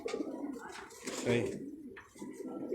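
Ferozpuri pigeons coo in low, soft bursts at close range, while a voice speaks over them throughout.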